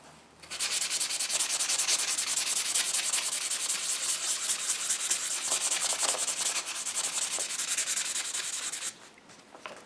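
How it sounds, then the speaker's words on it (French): A leather-tooling spoon is sharpened on a 1000-grit stone, giving a steady, close, continuous rasping rub that runs almost the whole time before it stops near the end. "de bien affûter tous les bords de ma cuillère"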